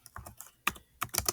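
Quick bursts of keyboard typing, a few keys pressed in clusters with short pauses, close and clear, no voices.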